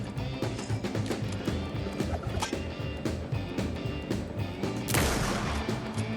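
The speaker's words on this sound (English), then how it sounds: "Did not want to shoot that bullet." Gunshots in the video game Alan Wake 2, rapid loud shots over dense, busy game noise, with a sharper burst near the end.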